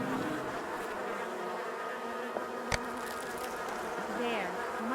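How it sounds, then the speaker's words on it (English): A colony of bees in the Miss Clue Christmas at Donner's Pass game hums in a steady, dense buzz that fills the space, with a single sharp click partway through and no talking. "It looks like a colony of bees has decided to move back into one of these."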